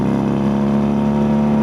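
A BMW R nineT motorcycle at high speed, a steady droning engine note with a strong low hum and wind noise, continuous and loud with no talk.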